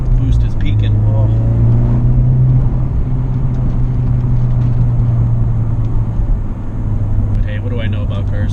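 A 2019 Honda Civic Type R's turbocharged engine pulls hard in third gear after a downshift, heard from inside the cabin as a loud, steady, deep drone lasting several seconds.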